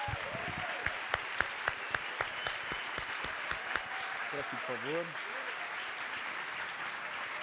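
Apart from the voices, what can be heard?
audience applause welcoming Marilena Chaui on stage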